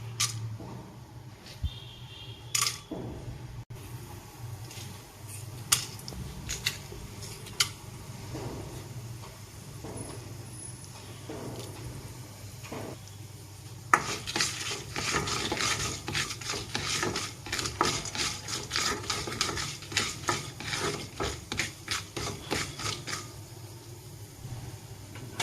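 Mustard seeds and chana dal crackle and fry in coconut oil in a pan on the stove, a low steady sizzle under sharp spoon and pan clinks, growing into denser popping and spattering in the second half.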